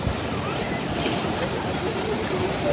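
Surf rolls in along Digha beach as a constant, full-bodied roar with wind noise mixed in, while someone speaks over it.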